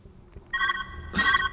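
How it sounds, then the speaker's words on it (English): A phone rings in the puzzle video game Viewfinder, two short bright electronic rings with a brief gap between them, moderately loud over faint ambient game sound, with no voices. "Where's that ringing coming from?"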